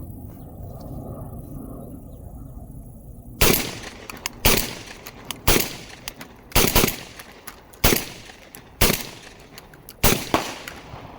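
A Mac 1014 shotgun, a Benelli M4 clone, fires seven loud, sharp blasts outdoors at a fairly even pace about one second apart. Each shot is followed by a short decay. Before the first shot there are a few seconds of quiet ambient noise.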